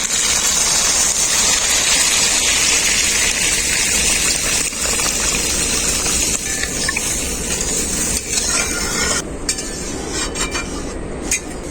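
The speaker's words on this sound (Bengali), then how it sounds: "এখন আমি এর মধ্যে পরিমাণ মতো জল দিয়ে দেবো" Water is poured into spice masala cooked down in a pan for a Bengali kohlrabi-and-fish curry. It makes a loud, steady, close rushing gush for about nine seconds, then thins into broken splashes and bubbling.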